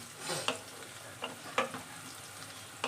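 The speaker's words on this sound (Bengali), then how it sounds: "তেল গরম হয়েছে পর শুকনো লঙ্কা, তেজপাতা, জিরে ফোড়ন দিয়ে আলু পেঁয়াজটা একসাথে ভাজতে নিয়ে নিয়েছি।" Potatoes and onions frying together in hot oil with dried red chilli, bay leaf and cumin, a soft steady sizzle broken by a few sharp stirring scrapes, close and fairly quiet.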